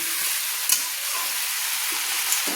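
Spiced vegetables fry in hot oil while being stirred in a pan for a Bengali fish curry with bottle gourd stems; a constant sizzle runs throughout, with a few scraping clinks of the spoon up close.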